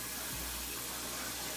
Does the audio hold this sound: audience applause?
no